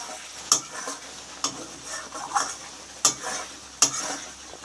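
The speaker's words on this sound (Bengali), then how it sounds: "এবার আমি এটাকে ভালো করে কষিয়ে নেব।" Spice masala being stir-fried in a pan, a soft sizzle broken by several sharp spatula scrapes and knocks at irregular intervals, close and without speech.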